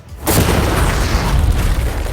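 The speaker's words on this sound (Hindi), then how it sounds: "वो धमाका टैंक वाले से बहुत बड़ा होगा।" A large explosion blows up a container, beginning with a sudden heavy boom and followed by a loud, sustained roaring rumble of debris that fills the whole moment with no voices.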